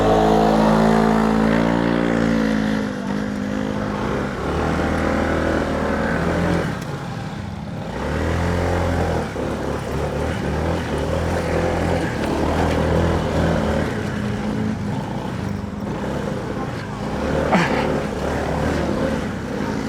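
Motorcycles idling and revving on a remote mountain road between Imugan and Kayapa, Nueva Vizcaya, with a steady close engine drone and harmonics shifting as the throttle changes.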